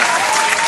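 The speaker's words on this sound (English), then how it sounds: "Let's clap that up for them." Studio audience applause on a podcast set: a short, dense burst of clapping heard close and steady throughout, with no speech over it.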